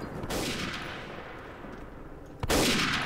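Gunfire rings out in the Day of Defeat shooter game: a loud burst of shots trails into a dense, rumbling wash, then a second sharp blast erupts near the end. No talking.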